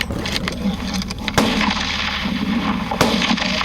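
Two sharp gunshots crack out a second and a half apart against a dense, rumbling background, each one a brief, loud burst.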